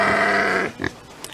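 Bubba the farm pig lets out one drawn-out, loud nasal grunt up close, followed by a couple of short, softer snorts.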